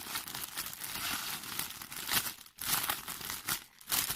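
Cellophane wrapping is pulled and crinkled up close, a busy stream of crisp rustles and crackles with a few short pauses and no talk.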